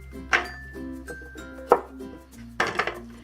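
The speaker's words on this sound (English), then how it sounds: "let's start with the asparagus. Cut them all in half in a diagonal." A knife cuts asparagus diagonally in half on a cutting board, giving three separate crisp chops with clacks against the board, close and clear over quiet background music.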